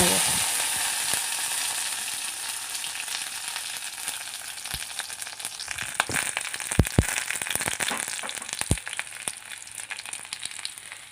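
Dried chilli, onion, garlic cloves and black cumin fry in a wok over a stove, giving a steady close sizzle with crackles and several sharp scraping stirs, alone with no voices, for a pumpkin mash.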